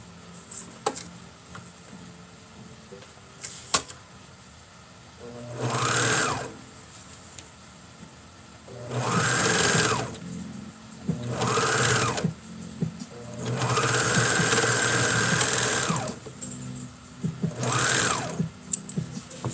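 A sewing machine stitches a McCall's 8193 garment in five separate whirring bursts of a few seconds each, close and fairly loud, with quiet pauses and small clicks between runs.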